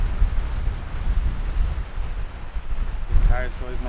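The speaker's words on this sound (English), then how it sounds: "It's very windy today." Gusty wind buffets the microphone with low rumbling blasts outdoors by a road, rising and falling, with a brief voice near the end.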